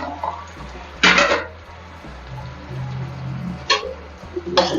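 Metal utensils clatter and scrape as biscuits are stirred into a pan of sugar syrup, a few sharp bursts with a quiet background hum between them.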